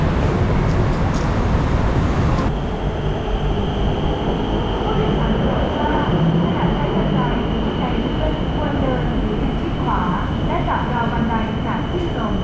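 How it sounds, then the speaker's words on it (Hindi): A Bangkok metro train rumbles loudly into a station, a steady roar of wheels and motors with a high whine that settles as it slows. "ये आ गया यहाँ का मेट्रो।"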